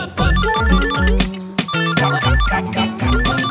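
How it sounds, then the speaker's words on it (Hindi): A loud, melodic phone ringtone plays close by in a repeating pattern with no talking. "फोन बज रहा है आपका।"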